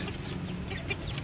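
Chickens cluck in a busy, overlapping chorus, several birds close by making short repeated calls over a steady low background.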